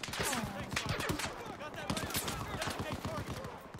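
Sustained gunfire in the Battlefield 4 campaign, dense rapid shots rattling throughout amid loud battlefield noise, with people talking over the shooting.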